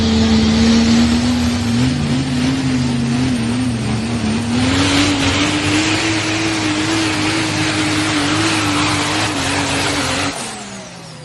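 A truck pulling run heard from the end of the track on a Saturday night: a loud, sustained engine roar with a steadily rising pitch that holds near full power for about ten seconds, then cuts off abruptly.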